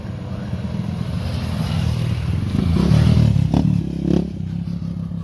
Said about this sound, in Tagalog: Ayan, umakyat na motor.